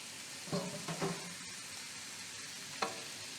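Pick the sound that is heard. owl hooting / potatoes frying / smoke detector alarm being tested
potatoes frying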